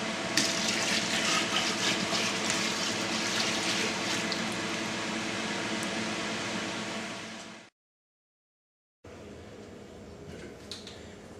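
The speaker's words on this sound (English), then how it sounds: "Now that you have poured your wort into the fermentation bucket" Beer wort pours steadily into a fermentation bucket as a continuous loud rushing, splashing gush that abruptly cuts to silence, then resumes as a quieter trickle.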